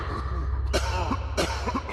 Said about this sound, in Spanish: La tos se hizo más fuerte y luego surgieron otras toses de los callejones.